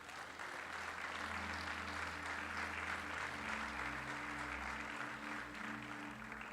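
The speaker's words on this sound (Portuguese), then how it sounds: "Você pode aplaudir Jesus?" A church congregation applauding Jesus during a sermon: sustained, even clapping from a large crowd over low sustained musical tones, continuous throughout without pause.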